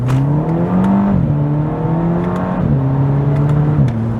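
A Mk5 Volkswagen Golf GTI accelerates hard, its engine note climbing through several gears, with quick dips at each upshift before rising again. The sound is loud and close, like from inside the cabin.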